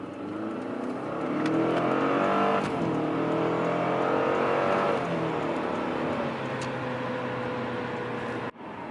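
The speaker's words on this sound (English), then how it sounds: "we're going to do a first and second gear pull" A Subaru Legacy GT with a Cobb stage 1 tune revs hard and climbs in pitch through first and second gear, with a brief drop at the shift, loud and close throughout.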